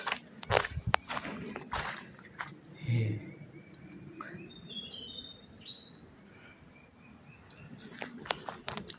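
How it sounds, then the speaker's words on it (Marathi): Forest birds chirp and tweet in short high calls amid footsteps crunching through undergrowth, with insects faintly buzzing; a voice speaks briefly in the background. "आणि पाखरांचा आवाज तरी होतोय, पण आपल्याला पक्षी नाही दिसणार."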